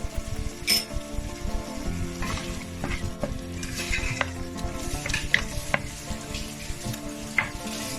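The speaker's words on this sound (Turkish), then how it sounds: "Kavrulan domatese 2 çay kaşığı tuzumuzu atıp tekrar kavurmaya devam ediyoruz." Tomatoes sautéing with salt in a pan for vegetable chickpea bulgur pilaf give a busy, close sizzle, broken by frequent stirring clinks and scrapes of a spoon against the metal.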